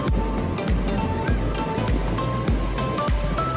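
Rough sea waves surging onto Kovalam Beach: a continuous loud roar of surf with repeated heavy crashes and rushing water, wind noise mixed in, close and without a break.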